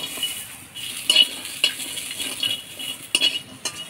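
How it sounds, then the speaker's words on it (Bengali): Garlic and green chilies dry-roast in a clay pan with a soft sizzle, while a spatula scrapes and clinks against the pan several times, close and steady, with no voices. "তো লাউ পাতা বাটা করার জন্য আমি রসুন, কালো জিরা আর কাঁচা লঙ্কা কাঠখোলায় ভেজে নেব"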